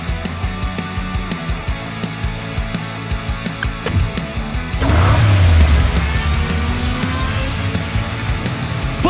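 Toy race car engine in the Hot Wheels Unlimited racing game, idling with a faint rhythmic pulse before surging loudly into acceleration about halfway through, then holding a steady roar.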